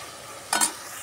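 Ginger garlic paste stirred as it fries in a pan, a steady soft sizzle with a brief louder scrape of stirring in the middle, close and alone.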